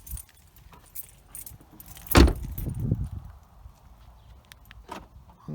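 Central locking on a 2006–2015 Ford Galaxy with a reported locking, window and mirror fault: a sharp mechanical clunk from the doors, followed by a short burst of softer rattling clicks, with no talking.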